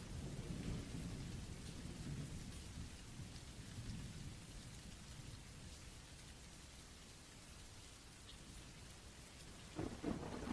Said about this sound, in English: The rain was coming down hard on the roof of the cabin, making a loud noise that filled the quiet night.